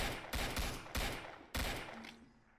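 Gunfire rings out in the Area 51 survival shooter game Survive and Kill the Killers: three loud, sharp shots spaced about half a second apart, each with a decaying tail, close and without talk.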